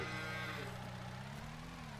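Cattle moo in the farming game Farming Simulator 19, a low, drawn-out lowing under a steady hum of game background sound, brief and fairly faint.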